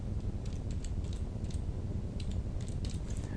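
Quiet, rapid clicking of keys on a computer keyboard, typed steadily and close by with no voices.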